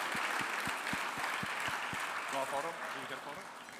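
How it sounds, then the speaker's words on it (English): An audience at a business hall of fame gala in Manitoba claps steadily as one broad wash of applause, with sharp rhythmic thumps near the microphone at first and a voice speaking over it toward the end. "A big round of applause for all of these folks."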